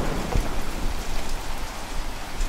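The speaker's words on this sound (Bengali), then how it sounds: "কিছুক্ষণ যেতে না যেতেই অঝোর ধারায় বৃষ্টি শুরু হয়ে গেল।" Heavy rain pouring in a stormy cartoon scene, a loud, continuous rushing downpour with a faint low rumble beneath.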